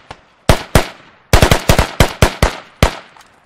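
Bursts of automatic rifle fire in the military shooter Squad, about a dozen sharp close shots in quick uneven clusters, loud and dry, with no talking.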